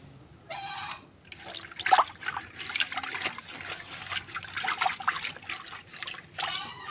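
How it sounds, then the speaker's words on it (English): Ngu water for cocoyam sauce is sieved in a Nigerian village kitchen, giving a faint, steady trickle with small splashes and drips that rise and fall throughout. "right now we are sieving out the ngu water"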